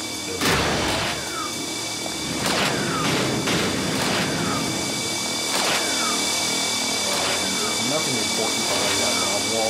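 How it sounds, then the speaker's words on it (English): Spinning turbine blades trap in the video game Inferno Climber: a loud, steady whirring roar with repeated sweeping whooshes and impacts, and someone talking over it. "welcome to the most dangerous trap in Inferno Climber, the turbine blades"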